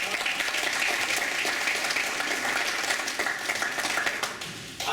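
An audience claps at a Black History Month campus event, a sustained wash of applause from a crowd that tapers briefly near the end.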